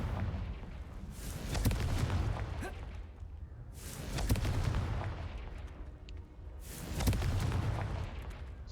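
Confringo fire spells in Hogwarts Legacy burst as three booming explosions with whooshing tails, spaced a few seconds apart over a low rumble.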